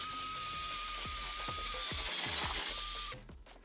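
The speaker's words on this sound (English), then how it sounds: "I'm using a wire brush to give the axle a clean, getting all the crusty rust and mud off it." A wire brush scrubs crusty rust and mud off the rear axle of a Mk6 Ford Fiesta, giving steady, loud abrasive rasping with repeated strokes and short pauses before it stops near the end.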